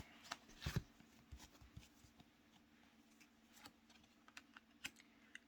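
Divine truth tarot cards are shuffled quietly up close, with soft irregular riffling taps and flicks spread across several seconds.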